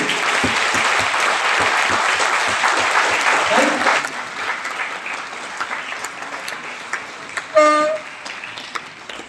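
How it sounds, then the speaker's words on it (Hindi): A large audience at a business club meeting in Lucknow breaks into strong rhythmic clapping that tapers off after a few seconds, leaving scattered claps and a brief tonal blare near the end. "तो आप सब अपने अपलाइंस के लिए एक बार जोरदार तालियां बजाइए।"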